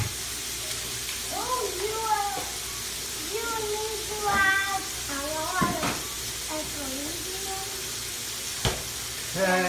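Pork chops sizzle in a hot pan with a constant hiss, while a voice talks over the cooking and a few sharp knocks cut through.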